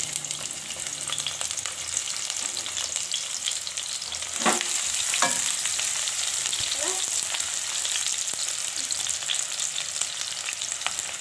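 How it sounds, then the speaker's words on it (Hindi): Sliced onions fry in about half a cup of cooking oil in a kadhai, with a steady close sizzle and a few sharp spoon scrapes and clinks partway through. "प्याज़ों को अच्छी तरह से फ्राई कर लेंगे"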